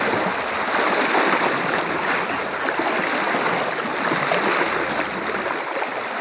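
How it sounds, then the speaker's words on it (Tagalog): Someone walks through water, with loud, continuous splashing and sloshing close by that holds steady throughout, and no talk. "Mahirap dito lumakad sa tubig buddy."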